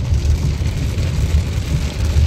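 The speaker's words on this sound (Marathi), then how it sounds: "काय पाऊस आहे यार, दरवेळेस सतत पाऊस पाऊस पाऊस" Heavy rain drums steadily on a car, a dense, loud, unbroken patter heard from inside without pause or voices.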